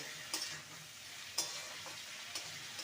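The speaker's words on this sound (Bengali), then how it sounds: "এইভাবে সবজি দিতে থাকবো আর ভাজতে থাকবো দু মিনিট নেড়ে নিয়েছি ফুলকপি আর সিম দিয়ে" Cauliflower and flat beans stir-fried in a pan, a steady soft sizzle with a few sharp scrapes of the spatula spaced about a second apart, close and fairly quiet, no voices.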